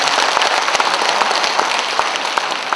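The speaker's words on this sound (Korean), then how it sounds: "이분들에게 한번 크게 박수 한번 보내주시기 바랍니다" An audience applauds at a founding rally of a Gwangju citizens' council pushing to relocate the military airport. The clapping is dense and steady, filling the whole stretch with sharp individual claps scattered through the roar.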